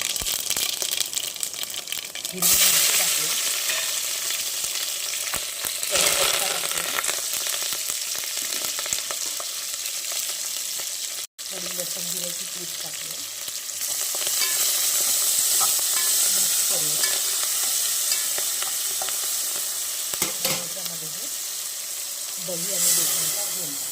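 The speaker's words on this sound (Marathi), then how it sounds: "मधातल्या गंजात तेल तापायला ठेवलं आहे त्याच्यामध्ये आपण मोहरी टाकूया जिरं टाकूया" Mustard seeds and cumin fry in hot oil in a pot for Maharashtrian kadhi, a steady loud sizzle and crackle with stirring, as voices talk at times.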